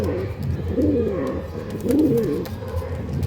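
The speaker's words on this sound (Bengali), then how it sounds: "এই আমি পায়রা দুটো একবার ছাড়ছি, দেখে নিন ভিডিওতে।" Two pigeons released by hand, giving soft low cooing calls close by over a constant background rumble, with no talking.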